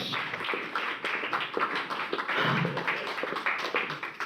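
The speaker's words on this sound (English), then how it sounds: "Let's give applause to those wonderful officers." Applause from participants at a Toastmasters officer training session, a dense, steady patter of many hands clapping at moderate level for several seconds with no talk over it.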